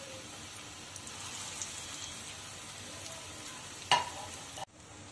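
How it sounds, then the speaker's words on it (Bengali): Jackfruit koftas fry in hot mustard oil, making a soft, steady sizzle close by, with one sharp clack of a spoon being stirred gently before a brief break and no voices. "খুব হালকা হাতে নেড়ে চেড়ে কিন্তু ভাজতে হবে।"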